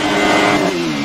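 An Alfa 155 TI V6 in Assetto Corsa revs toward a 13,000 RPM limiter, giving a loud, close, sustained engine howl with a high tone that dips slightly near the end.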